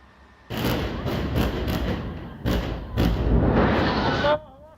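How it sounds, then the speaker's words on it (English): A series of heavy, booming blasts outside the Indonesian Hospital in Gaza, several in quick succession then a longer rumbling one, loud and close. "this footage shows large explosions outside the Indonesian hospital in Gaza"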